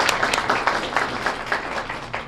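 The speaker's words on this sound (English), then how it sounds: "let's give them a great round of applause" A school audience gives a round of applause for a student camera crew, a dense burst of clapping heard steadily throughout the short clip.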